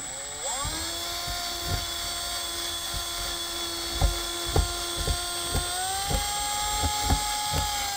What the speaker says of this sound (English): we should be able to use our drill and create resistance against that